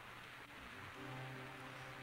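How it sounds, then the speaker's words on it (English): Rain in Zelda: A Link to the Past, a continuous soft hiss of steady downpour with a faint low game tone underneath, even and quiet throughout. "It's a rainy day tonight"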